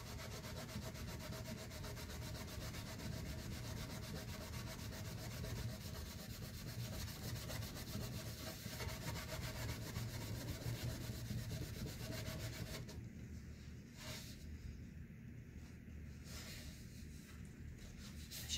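Sharpie ink is rubbed off a thrifted resin item: continuous soft, close scrubbing friction that stays steady for most of the time, then thins into a few intermittent rubs near the end, with no talking.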